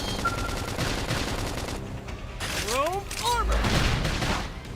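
Dense, steady gunfire in the sci-fi game Xenoblade Chronicles X keeps going under a busy battle mix, with swooping synthetic tones and a voice calling out partway through.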